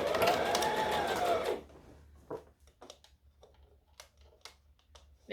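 A sewing machine top stitching a rolled hem on a dress runs in a loud, steady whirring burst, then stops, followed by faint scattered clicks and handling taps.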